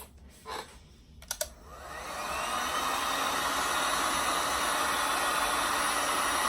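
After a couple of clicks, a heat gun or blow dryer switches on and blows with a steady, loud whooshing hiss that continues to the end.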